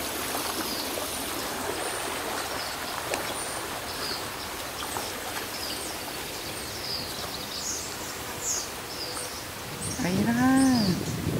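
A mountain stream in a river setting flows with a steady close rush and trickle, birds chirping faintly above it, and a louder burst of water near the end.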